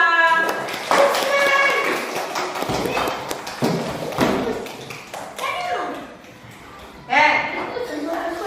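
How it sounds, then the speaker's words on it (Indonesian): Children clap their hands together in a classroom, bursts of claps and thuds recurring through the clip amid an adult's and children's voices. "Tepuk tangan untuk kita semua."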